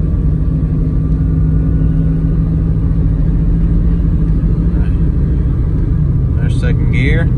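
A 1954 Studebaker Champion gasser with a new exhaust pulls in second gear, giving a loud, steady low engine rumble from inside the car. A person talks briefly near the end.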